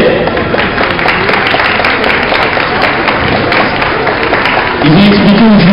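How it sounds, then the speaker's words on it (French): A crowd applauding cosplayers at a villains-themed cosplay parade in Saintes, with loud, dense clapping sustained throughout and a voice rising briefly near the end. "je vous demande encore une fois de les applaudir tous ces cosplayers"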